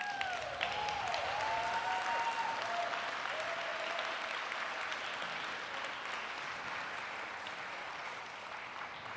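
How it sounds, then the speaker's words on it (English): Audience applause for the recipients of the 2025 Lush Spring Prize, a dense, steady clapping from a large crowd that slowly fades, with a brief whistling tone near the start. "One more round of applause for the recipients."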